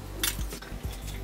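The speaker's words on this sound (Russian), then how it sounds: "Я сразу перекладываю ее в форму для запекания." Boiled broccoli tipped into a baking dish, a few quick clinks and scrapes of a utensil against the dish, close and fairly quiet.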